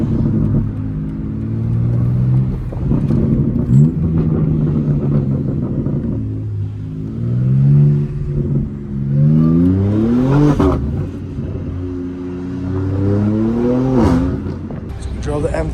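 A Dodge Hellcat Redeye V8 revs repeatedly on a street drive, its loud, deep engine note rising and falling in several sweeping pulls close by, with voices talking over it at times.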